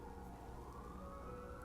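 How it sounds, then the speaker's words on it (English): Ambulance sirens wailing outside, a faint, distant, steady tone sliding slowly in pitch under a constant background hum, with no talk. "So enjoy the dulcet tones of the ambulances"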